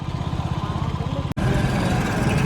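A motorcycle engine thumps close by in a fast, steady putter that cuts out for a split second and then resumes slightly rougher.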